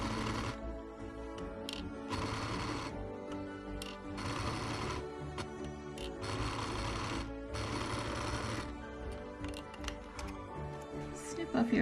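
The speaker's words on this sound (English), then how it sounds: "I'm going to sew from one end around the top of the ear and back down the other side." Domestic sewing machine stitching felt layered on velour around the edge of a bunny doll's ear, running in bursts of steady rapid whirring with short pauses between, close and moderately loud with no talk.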